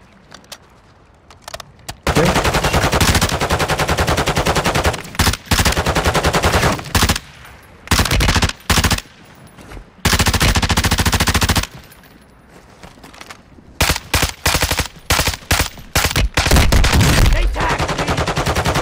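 Gunfire in the video game Kings of the Hill, loud sustained automatic bursts and rapid volleys that start and stop repeatedly across the stretch, with brief quieter gaps between.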